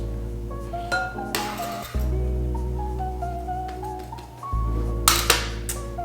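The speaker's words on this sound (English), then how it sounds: "let's scoop our red onions into our bowl" Chopped red onions are scooped into a bowl, with a run of clinks and scrapes from a utensil against the dish over a steady low hum.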